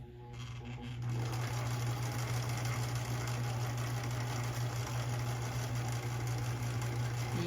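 Sewing machine stitching dress fabric crosswise at a very short stitch length, a steady close mechanical whir that starts up after a second and runs evenly to the end.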